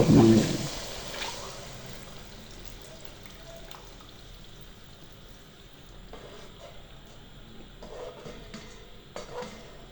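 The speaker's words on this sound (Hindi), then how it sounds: "हमें मिक्सचर को तकरीबन 7 से 8 मिनट तक मिसाले में भून लेंगे और साथ साथ हिलाते भी रहेंगे" A 1.5 kg yogurt and gram flour mixture is stirred into masala in a pot for kadhi, giving soft scraping and clinking over a faint sizzle, with a louder clatter at the start and voices talking.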